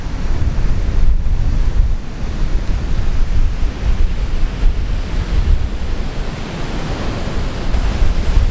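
Ocean surf roars steadily as a broad, continuous wash, mixed with wind buffeting the microphone, loud and close, with no voices.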